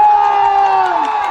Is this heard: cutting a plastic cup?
no